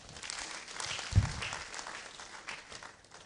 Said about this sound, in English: Let's give him a clap for that.